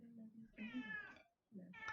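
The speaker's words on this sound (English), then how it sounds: "Cat Yoda says very. If you didn't hear him in the background." A cat meows in the background of a tabletop game session, two drawn-out meows separated by a short pause, with people talking around and between them.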